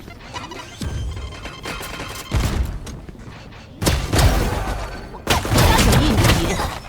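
Grenade blasts in Valorant, several loud booming explosions with crashing debris that arrive a second or two apart over a busy background of game action.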